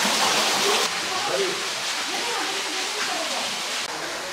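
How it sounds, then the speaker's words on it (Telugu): A natural waterfall pours down from the forest into a pool used for bathing, a steady, dense rush of falling water that fills the scene from start to finish. "ఆ పైనుంచి వస్తున్నాయి చూడండి వాటర్ అన్ని, ఆ ఫారెస్ట్లో నుంచి ఇట్లా అని పడేసి ఇట్లా వెళ్తున్నాయి."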